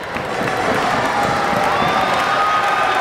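A wrestling crowd gives a loud, continuous ovation of cheers, whistles and applause that swells at the start and holds steady, with no voice standing out above it.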